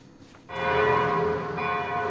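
A large bell of Notre-Dame de Paris cathedral strikes once after a moment of quiet, its rich ringing tone sustaining and slowly fading, loud and close.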